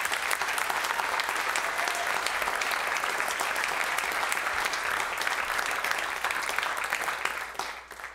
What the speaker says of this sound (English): So would you give them a round of applause